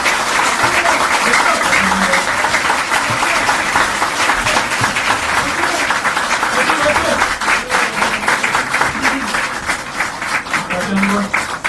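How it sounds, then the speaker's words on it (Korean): Applause from an audience after a political speech at a press event in Korea, a dense, sustained clapping that fills the whole stretch while an announcer's voice carries over it. "뜨거운 박수 부탁드립니다"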